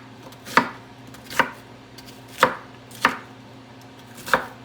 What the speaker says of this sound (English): Cut this up, kind of a rough chop.